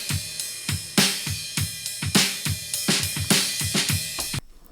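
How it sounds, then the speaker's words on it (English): Drum kit captured only through overhead microphones in a rehearsal room, a steady groove of sharp cymbal-bright hits with thumping low drums about twice a second, close and loud, stopping abruptly near the end. "The overheads only sound like this"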